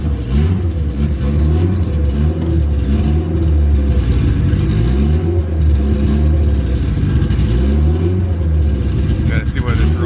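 A Honda car engine runs steadily after the key is turned, a loud, rough, lean-running idle with throbbing low rumble throughout, with talk over it.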